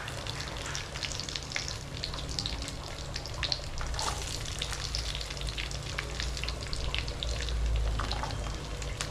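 Small shallots sautéing with fennel seeds in hot oil, a steady soft sizzle and crackle with faint pops throughout, no talking.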